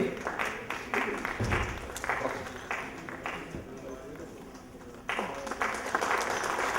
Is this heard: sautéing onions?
no